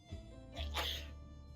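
A single soft sneeze from the video game 60 Seconds! Reatomized, a brief breathy burst rising and fading, faint against a low steady hum.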